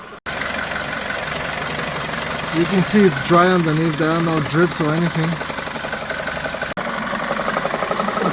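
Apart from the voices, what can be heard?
car engine idling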